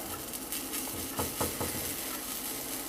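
Multigrain corn silver dollar pancakes frying in a pan with sunflower and extra virgin olive oil, a soft steady sizzle with a few light clinks of a utensil against the pan, close and fairly quiet.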